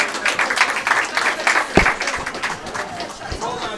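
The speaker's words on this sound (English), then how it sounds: "Big round of applause for Mr. Troy Jones." At the US Amateur pool championship finals in a billiards hall, an audience claps for the fourth place finisher, a brief ripple of applause from a modest crowd mixed with chatter.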